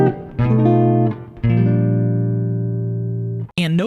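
Jazz guitar chord melody of Silent Night, a few plucked chords ringing out, the last one sustaining and slowly decaying, clear and close, with a brief squeak at the end.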